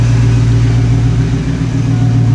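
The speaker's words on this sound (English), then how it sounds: "it starts cutting out like crazy when you start giving it throttle" A Ford Mustang GT with severe misfires runs close by with a loud, low engine rumble that wavers and dips briefly mid-way, sounding rough under throttle.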